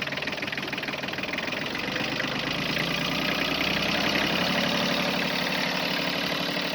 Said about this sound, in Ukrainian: як працює двигун і секер. Зараз додамо газу.